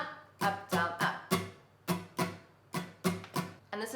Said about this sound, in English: So the last strumming pattern that you're going to need to learn for the song is our very popular strumming pattern